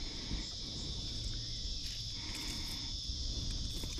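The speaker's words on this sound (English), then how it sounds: "Soon as the cicadas have got chirping." Steady high-pitched cicada drone by the Hawkesbury River at Windsor, continuous and fairly loud, with a constant buzzing band and faint low rumble beneath; no voices.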